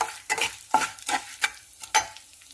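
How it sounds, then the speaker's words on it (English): Red chilies, shallots and tomatoes dry roasting in a pan for chutney, stirred with a utensil in about five scraping, rattling strokes over a faint sizzle, close up and without talking. "So we have to roast all these things together."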